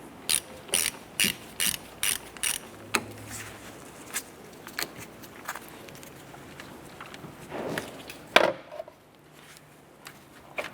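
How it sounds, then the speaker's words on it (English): A ratchet wrench loosens the battery terminal nut on a 1993-1997 Ford Ranger: six quick bursts of crisp clicking up close, followed by scattered metallic clanks and one louder knock of tools being handled. "Let's go ahead and loosen our positive terminal here."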